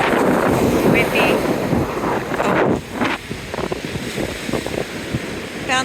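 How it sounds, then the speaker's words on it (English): Strong wind and high surf at a beach, with gusts buffeting the microphone over the steady roar of breaking waves, loud and close, and a person briefly exclaiming. "Windy."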